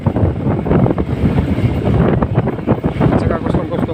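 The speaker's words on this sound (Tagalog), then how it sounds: "mahangin na mahangin dito banda kasi tabi dagat" Strong seaside wind buffets the microphone of a moving motorbike in a constant rough roar with gusty surges, while someone talks over it.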